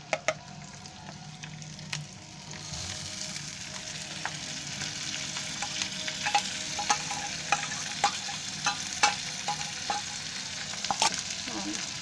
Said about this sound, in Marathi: आता हे सर्व मी वरून टाकणार आहे.